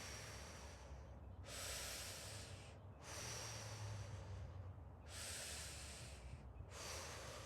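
Breathing during a stretch, four long audible breaths through the mouth with short quiet gaps between them, close and soft.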